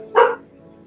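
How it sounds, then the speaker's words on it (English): A single short, sharp dog bark, close and fairly loud, fading into a quiet room tone. "Sorry for the barking."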